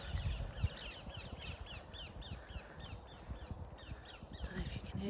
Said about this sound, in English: Don't know if you can hear them parrots